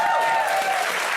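An audience cheers and applauds in a short, loud, dense burst of clapping with crowd noise, steady throughout without pause.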